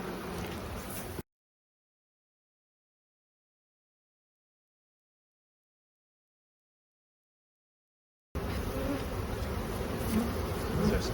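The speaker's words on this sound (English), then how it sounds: "Pretty friendly bees, I'll tell you." Steady buzzing of many honey bees close by in a hive inside a stucco wall bumpout, a dense droning hum with no talk.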